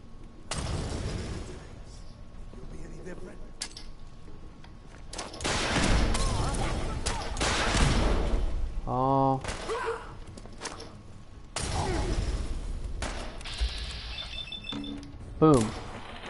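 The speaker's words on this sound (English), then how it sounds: "Look out, they're gonna fire a rocket launcher at us again." Gunfire, explosions and thuds burst from a combat scene in the video game Fallout 4, coming in loud bursts and swells with a rocket launcher firing and someone talking over some of the action.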